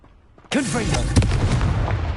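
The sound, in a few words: Confringo fire spell blast in the Hogwarts Legacy video game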